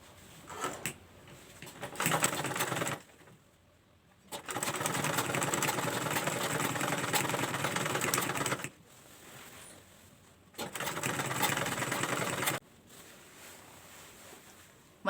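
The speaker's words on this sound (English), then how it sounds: "so we're going to sew the middle part" A sewing machine stitches the middle part of a small fabric travel bag, running in several loud, steady bursts of whirring separated by short quiet pauses, close up and without talking.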